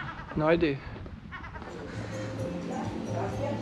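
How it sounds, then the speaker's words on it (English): Street cats meow behind a person speaking outdoors in Sozopol, Bulgaria, one clear yowl early on and fainter cries mixed with town noise and a brief spoken remark. "Maybe you can hear it behind me, but there are lots of cats here."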